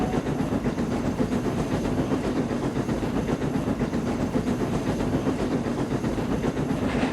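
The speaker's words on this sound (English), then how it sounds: "So Sir Handel passed through the station near the riding school and puffed into the wharf instead" Steam engine train puffing into a wharf, heard as a continuous, fairly loud rumble and hiss with a rhythmic chuffing texture and no talk.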